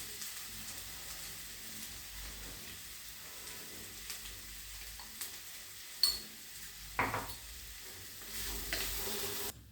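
Mashed boiled potatoes cooking in a pan with a sautéed mixture for samosa filling produce a faint, soft sizzle with a few clinks and scrapes of a spoon against the pan.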